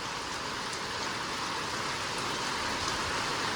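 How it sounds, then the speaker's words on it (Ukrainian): Steady morning rain falling, a dense even hiss of drops that holds constant throughout with no voices. "Ранок почався з дощу. Дивіться, який дощ."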